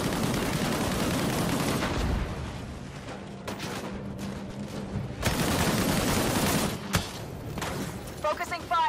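Gunfire in the video game Disintegration: dense, sustained bursts of shooting with heavy thuds and a few sharp cracks, mixed with voices talking over the battle.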